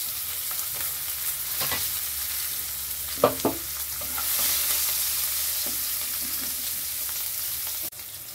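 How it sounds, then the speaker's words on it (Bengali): Onion fries in a pan of oil with cardamom, cinnamon, cloves and black cumin, a steady close sizzle punctuated by a few sharp stirring knocks. "ভেজে নিচ্ছি সামান্য পরিমাণে পেঁয়াজ।"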